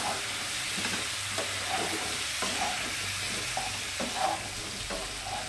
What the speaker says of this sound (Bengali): দু মিনিট মতো ভালো করে ভেজে নেব।